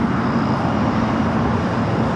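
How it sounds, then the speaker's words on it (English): An Air Canada 787-8 Dreamliner pushes back from Terminal 6 at LAX, a dense steady engine rumble with a faint humming tone, brief and continuous. "the Air Canada Dreamliner. Just pushing back from Terminal 6"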